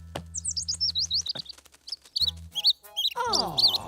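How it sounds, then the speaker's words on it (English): A tiny cartoon baby bird chirps in rapid high, quick peeps, repeated in bursts over a low background hum, with a brief voice and a falling tone near the end. "Oh, poor baby bird."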